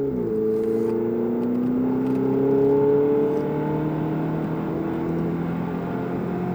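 A Ferrari engine revs and accelerates on a track at Issoire, rising in pitch steadily with a strong whirring drone, loud and close, no talk over it.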